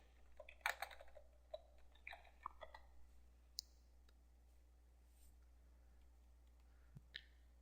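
Quiet clicks of keys on a computer keyboard as a keyword is typed, a few irregular taps spread through near silence.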